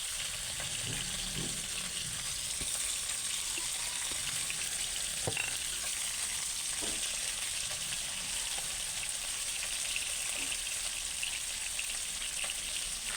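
Hot oil sizzles steadily in a pan on the stove ahead of sautéing shrimp paste, a dense continuous crackle with occasional scraping stirs and small pops, close and unbroken.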